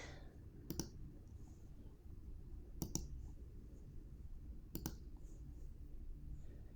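Computer mouse clicks on a Mac, three sharp isolated clicks spaced about two seconds apart over a quiet room background.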